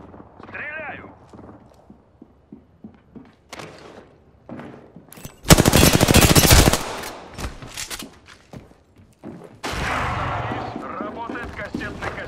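Gunfire bursts in Apex Legends, loud rapid volleys arriving in two dense stretches midway and near the end, set among scattered game clicks, footsteps and a few short voice bits.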